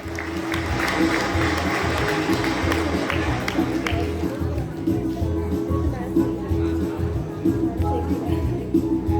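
Applause and crowd noise for a prize-winning student at a school award ceremony, a dense, steady clapping wash that carries on loudly throughout with a busy hall murmur beneath it.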